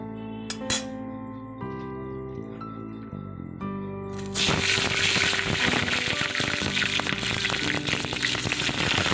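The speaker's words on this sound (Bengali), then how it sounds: "ফুলকপিটা বেশ লাল লাল করে ভেজে নেব" After a quiet stretch of soft tones, a loud, steady sizzle of cauliflower frying in mustard oil in a wok bursts in and keeps crackling to the end.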